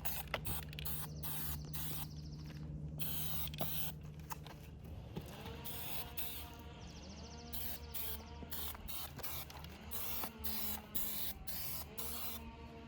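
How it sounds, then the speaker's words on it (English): Short, sharp bursts of spray paint hissing from an aerosol can onto a concrete curb, repeated press-and-release puffs in an uneven rhythm, close and loud over a faint background drone. "I'm not doing a continuous spray. I push and let go."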